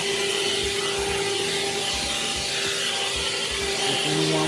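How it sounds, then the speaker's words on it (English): Aldi leaf blower running steadily while clearing leaves and dirt off a porch, a constant motor whine with broadband airy rush held at an even, fairly loud level throughout. "I just wanted to blow any excess leaves and dirt off."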